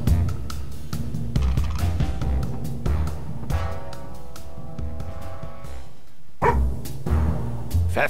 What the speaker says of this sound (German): Dieser Hund wieder mal. Und er ist hinter Kowalski her.